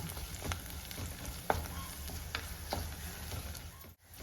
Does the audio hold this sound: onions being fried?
yes